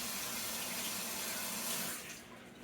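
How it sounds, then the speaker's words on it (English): Tap water runs into a sink as something is rinsed off, a close, continuous rushing splash that softens and thins toward the end. No voices are heard. "I'm going to step over to the sink and rinse this off"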